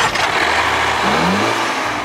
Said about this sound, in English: This crossover's only engine is a turbocharged 4-cylinder designed and built by Ford.